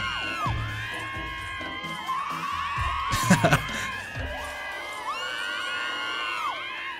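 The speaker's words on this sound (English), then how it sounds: "I alarmed them, and they're all screaming right now, like crazy old ladies." Many NPC townsfolk in the game We Happy Few scream in alarm at once, a dense overlapping chorus of shrill wails and shouts that rises and falls continuously, with a brief clatter of sharper hits midway.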